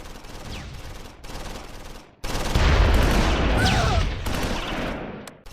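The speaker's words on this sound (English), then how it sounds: "PFC Marvin's medium machine gun in 3rd Platoon engages German infantry in depth." Medium machine gun fire from a World War II battle in the Close Combat 4 strategy game rattles in dense rapid bursts, swelling loud after a short pause, with other battle noise mixed in.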